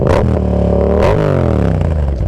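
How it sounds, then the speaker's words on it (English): A Yamaha XSR700 fitted with a Two Brothers exhaust roars loud and close while riding, its engine note rising and dropping through gear changes under steady wind rush. "XSR700 with the Two Brothers exhaust,"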